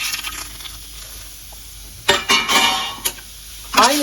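Tomato, onion and garlic fry in a little oil in a pan, giving a steady sizzle with bursts of scraping and stirring, plus a few louder clatters near the end.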